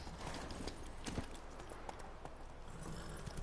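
Hooves of the horse Roach clip-clopping in the video game The Witcher 3: Hearts of Stone, a steady walking rhythm of close hoofbeats over faint game ambience.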